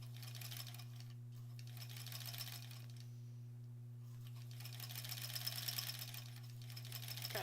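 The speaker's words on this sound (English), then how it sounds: "So I'm sewing the other direction now" A sewing machine runs steadily while stitching along a marked line on the other side of a quilt block seam, working slowly and carefully with a constant motor hum and rapid needle chatter throughout.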